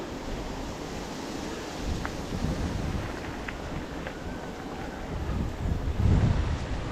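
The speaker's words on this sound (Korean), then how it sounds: "우와, 바람. 오늘 바람이 9에서 10" Strong gusty wind buffets the microphone during a mountain bike ride on the Ildong Kkaldak climb toward Surisan, a loud, continuous low rumble that swells in bursts, with no speech.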